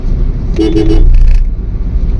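A car horn honks briefly, a couple of short toots over heavy, close road and engine rumble of passing traffic on a drive from Kolkata toward Siliguri and Kurseong.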